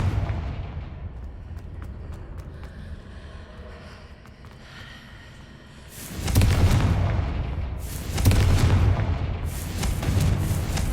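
The Confringo spell blasts in Hogwarts Legacy, a quiet rumble giving way to two heavy, booming explosions close together, each with a rolling decay and a sharp crackling burst.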